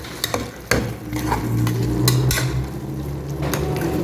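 Onions sautéing in a pan for mutton gravy, a steady low frying hiss with a few sharp clinks of a spoon against the pan early on, close and continuous throughout.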